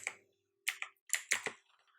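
Short bursts of computer keyboard typing, a few quick clicks, a pause, then a faster run of keystrokes, close and clear in a quiet room.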